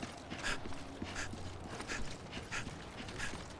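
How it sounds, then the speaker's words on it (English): Rhythmic breathing sounds in the video game Death Stranding recur about every half second to second, steady and close, over a low continuous background hum. "Listen to that breathing, that rhythmic."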